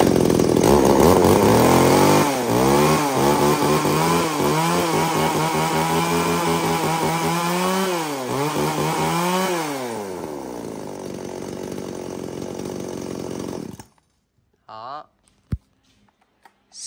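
A Tanaka 33cc mini chainsaw with a 38 mm cylinder runs loud and close, its engine revving up and down several times before cutting off, followed by a few clicks and knocks, with someone talking over it.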